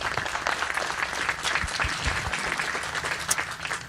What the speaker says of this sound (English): let's give them a big round of applause right now.